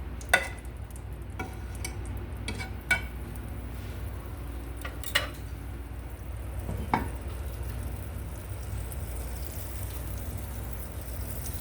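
Pancake batter cooks in a pan greased with a little butter, giving a soft, steady low sizzle at close range, broken by a few scattered clicks and taps of utensils against the pan.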